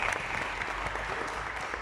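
Steady applause from an audience at a faith symposium, a dense unbroken patter of clapping hands filling the room for a couple of seconds with no voices on top.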